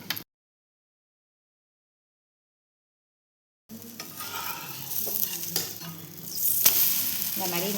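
Dosa batter meets a hot griddle greased with groundnut oil. After several seconds of near silence, a bright, steady sizzle rises abruptly, with small scrapes and crackles building toward the end, close by and without voices.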